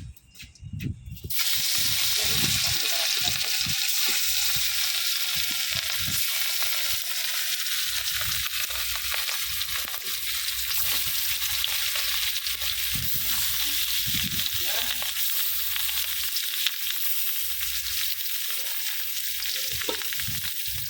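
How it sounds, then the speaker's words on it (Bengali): Rohu fish pieces drop into hot oil in a wok and sizzle loudly and steadily, a continuous close frying hiss with faint scraping and crackle throughout, no talking. "এই যে মাছগুলা দিয়ে দিব কড়াইতে"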